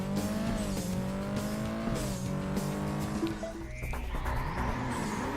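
A car in a racing video game roars at high speed with tires squealing over steady background music, and a rising whoosh swells near the end as it boosts.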